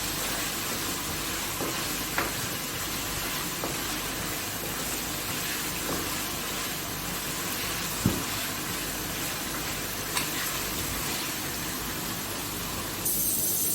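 Beef liver frying in a pan with salt added, giving a steady soft sizzle throughout with a few faint clicks and taps of stirring.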